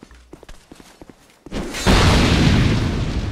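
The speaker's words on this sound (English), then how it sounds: "He exploded himself" An enemy blowing itself up in Dark Souls 2: a few soft footstep-like thuds, then a sudden loud, deep boom that swells into a sustained roaring rumble and holds to the end.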